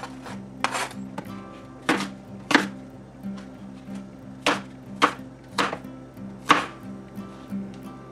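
Knife chopping onions small on a cutting board for stuffing, about a dozen crisp, distinct chops in an uneven rhythm, close and clear with no talking.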